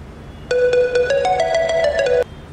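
A phone ringtone plays loudly and close by as a rapid series of bright, evenly repeated electronic tones lasting close to two seconds, then cuts off abruptly, with no one talking over it.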